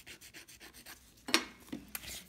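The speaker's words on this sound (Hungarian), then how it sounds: "Én alulról is mindig egy kicsit megreszelem." A file rasps an acrylic nail from the underside in a few short, scratchy back-and-forth strokes, close and fairly quiet, with one sharper scrape in the middle.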